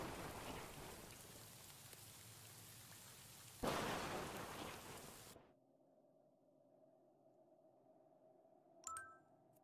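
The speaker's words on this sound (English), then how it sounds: "Crash, bang. Wow, just absolute thunder." A heavy downpour hisses steadily in the video game Sprout Valley, then a loud thunder crash booms before the storm cuts off into a quiet tonal hum and a brief chime.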